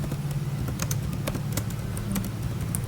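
Someone types code on a computer keyboard: a run of sharp, irregular key clicks over a constant low hum.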